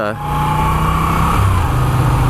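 Stock Moto Guzzi V7 III with a 90-degree two-valve V-twin and factory exhaust idles and revs close by, a loud steady throb that rises in pitch midway, heard alone with no talk.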